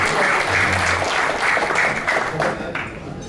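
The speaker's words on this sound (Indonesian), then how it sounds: "Tepuk tangan untuk Tuhan." Congregation at a Christian men's fellowship gathering claps and cheers after a worship song, a loud, full burst of applause that holds steady and tapers slightly toward the end.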